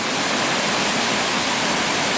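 The wide Upper Moonlight Falls plunges over a white cliff, heard from its base as a steady, dense rush of falling water with no other sounds.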